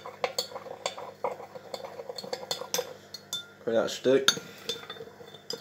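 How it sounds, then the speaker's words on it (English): A spoon stirs salt into a glass of water, with quick metallic clinks and scraping against the glass in irregular bursts, near and fairly quiet, and a short spoken remark mixed in. "I'll mix it a bit"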